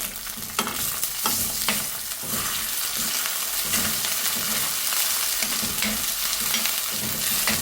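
Onions, curry leaves and crushed ginger-garlic fry in hot oil in a clay pot, giving a continuous close sizzle broken by repeated scraping strokes of stirring, with no voices.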